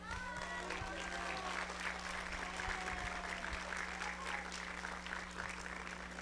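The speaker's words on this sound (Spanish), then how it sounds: "Un fuerte aplauso." Steady applause fills an indoor rally in defense of sovereignty, dense and sustained throughout, with faint voices and tonal whistles or shouts rising over the clapping and a low electrical hum underneath.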